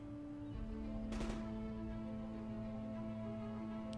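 Gunfire in the zombie survival game Project Zomboid, a short burst of shots around the one-second mark over a steady droning game soundtrack.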